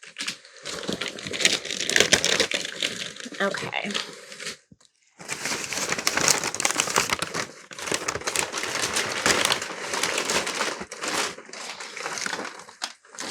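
Close, loud crinkling and tearing of taped paper wrapping around plants, in bursts, with a brief pause partway through and a voice speaking briefly.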